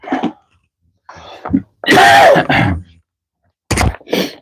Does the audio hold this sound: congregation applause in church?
no